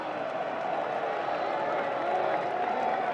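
A baseball stadium crowd on a chilly night, roaring steadily for pitcher Jordan Hicks, with a broad continuous swell of cheering and clapping under commentary.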